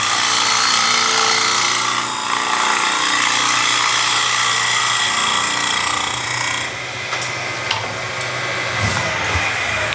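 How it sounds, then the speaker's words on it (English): A Robert Sorby TurnMaster scrapes end grain on a spinning wooden workpiece on a lathe, a loud continuous rasping hiss that drops off sharply near the end, leaving a quieter hum with a few taps. "because we're scraping, we're tearing up the end grain"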